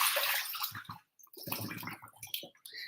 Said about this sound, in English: I'm going to rinse them off